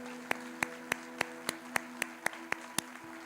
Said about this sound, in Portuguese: Você pode dar uma salva de palmas ao Senhor Jesus por isso?